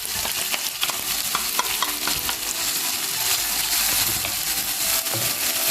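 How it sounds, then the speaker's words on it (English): Finely grated onions sauté in a hot pan for a chili pepper crab dish, giving a steady, close sizzle with intermittent scraping and stirring strokes throughout and no voices. "Saute for some time till it is brown color."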